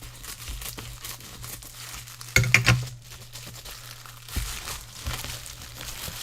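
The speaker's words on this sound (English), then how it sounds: "I'm just going to open up the packages right now." Plastic packaging around Spellbinders craft dies crinkles and tears in a short burst of sharp rustling near the middle, with light handling noise around it and no talk.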